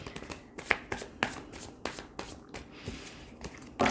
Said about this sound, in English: So I'm gonna shuffle 2 more times and then deal the cards out that way instead.